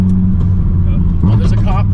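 A 1,500 hp twin-turbo Dodge Viper accelerates in a highway roll race, its engine a heavy steady drone heard from inside the car as a voice talks over it.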